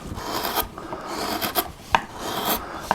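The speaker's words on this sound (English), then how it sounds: "Then I'll lower the background using a slightly deeper gouge," Gouge carving wood across the grain to lower the background of an ornamental leaf mirror frame, a steady rasping scrape in repeated close strokes with a few sharper catches as the blade bites.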